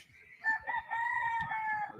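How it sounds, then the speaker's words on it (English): A rooster crows once in the distance, a drawn-out tonal call lasting about a second and a half, fairly faint over a quiet background. "the rooster's crowing at 2:05 PM, and I hear another one somewhere in the distance"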